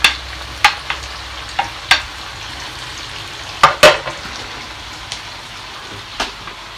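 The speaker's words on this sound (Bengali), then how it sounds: "আর এখানে চিকেন রোস্ট করব, রোস্টটাকে ভাজছি।" Chicken roast fries in a pan on a gas stove at home, with sharp, scattered pops and crackles breaking over a soft, low sizzle.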